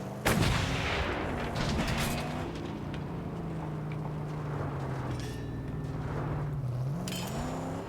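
Distant sniper shots and booming gunfire echo across open wasteland in the video game Mad Max, with a sharp loud crack at the start and a rumbling vehicle engine droning underneath the whole time.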